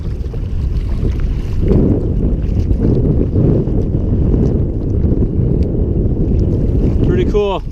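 Steady strong wind buffets the microphone while a canoe is paddled straight into a headwind on open water, a loud continuous low roar filling the whole stretch with brief splashy water sounds near the end.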